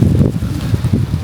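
Gusty wind blowing outdoors in a garden, buffeting the microphone with a low rumbling roar that swells and eases in short pulses over about a second.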